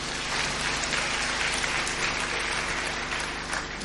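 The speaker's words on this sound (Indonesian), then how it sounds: "Beri tepuk tangan yang meriah betul" A church congregation at a sermon breaks into loud, hearty applause, a thick continuous roar of clapping filling the hall from start to finish with no talk over it.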